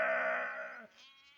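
A single goat or sheep from a village flock gives one drawn-out, wavering bleat close by, about a second long, then trails off into a quieter second call.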